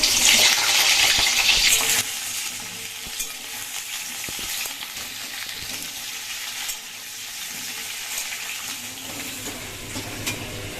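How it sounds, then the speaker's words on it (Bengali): Potatoes fry in hot oil in a wok with a steady sizzling hiss that is loudest at the start when they go in, then settles into a constant crackle with faint stirring scrapes. "তেল গরম হয়ে গেছে এবার আমি আলুগুলো আগে ভেজে নেবো"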